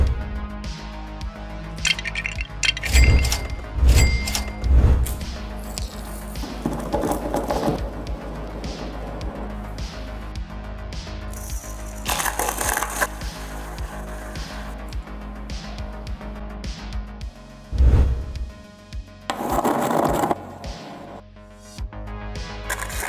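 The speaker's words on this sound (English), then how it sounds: "3D printed mortar and pestle versus real mortar and pestle." Pestle grinding and knocking in a 3D printed mortar and in a real mortar, a series of sharp clinks and gritty scraping bursts spread out between quieter gaps.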